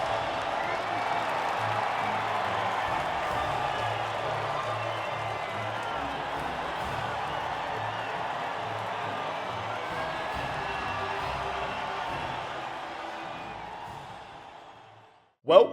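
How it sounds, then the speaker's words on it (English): Crowd cheering and applause at the podium of a Formula One race in the F1 2009 video game, a steady loud roar of many voices held for about fourteen seconds before cutting off with a brief thump. "And a popular one with the crowd as well."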